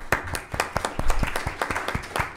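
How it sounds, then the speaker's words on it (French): Audience applause after an academic presentation on the state and religions in France, a sparse but steady run of individual claps from a modest crowd in a hall, moderately loud. "on applaudit"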